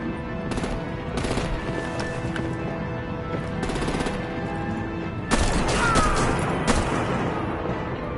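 Machine-gun gunfire in the video game Batman: The Enemy Within, repeated loud automatic bursts separated by short gaps, with a heavier volley near the end over a rumbling battle background.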